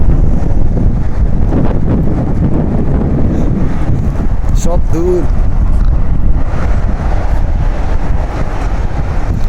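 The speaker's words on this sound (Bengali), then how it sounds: "প্রচুর বাতাস, যেটা বাংলাদেশে যেমন বন্যা হলে যে পরিমাণ বাতাস হয় না, তার চেয়ে বেশি" Strong gusty wind roars steadily into the microphone outdoors in Saudi Arabia ahead of a hailstorm, loud and continuous, with someone talking briefly over it.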